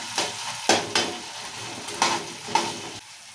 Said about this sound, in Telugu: ఇది మంచిగా పేస్ట్ చేస్తున్నాం కదా నూనెలో మంచిగా మగ్గించుకోవాలి